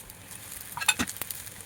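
Kothimbir vadi frying in hot oil gives a quiet, steady sizzle broken by a handful of small crackling pops and spatters.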